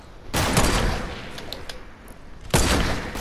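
Two bursts of semi-automatic gunfire in a video game, each a sharp, loud volley of rapid shots, separated by a short pause.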